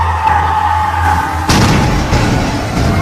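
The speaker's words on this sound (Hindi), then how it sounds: "अचानक से ट्रेन में जोरदार धमाके की आवाज आई" A loud bang bursts in mid-clip on board a train, a broad crashing blast that cuts through a steady low rumble and tonal hum, then trails into rough noisy rattling, used as a horror story sound effect.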